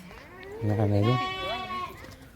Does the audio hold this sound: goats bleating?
yes